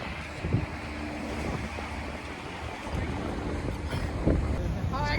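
Wind buffets a microphone over steady wash of water at Townsend Inlet, Sea Isle, New Jersey, with boat engine rumble and a few brief voices in the background.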